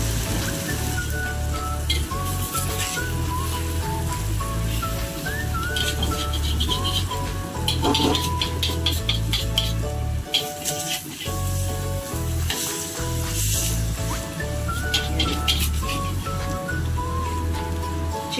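Chili omelette (tortang sili) sizzling steadily in a frying pan, a continuous loud fry hiss with crackles and occasional utensil scrapes, over a constant low background hum.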